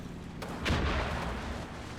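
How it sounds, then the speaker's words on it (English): A tank's ammunition cooks off inside a wreck in the World War II strategy game Combat Mission Final Blitzkrieg, one deep, close explosive boom that rises sharply and then rumbles on in a long low tail, with no talk. "The ammo cook-off there."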